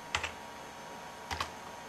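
Computer keyboard keys pressed while entering a password on an Ubuntu desktop: two short pairs of close, crisp clicks, separated by about a second of quiet room hiss.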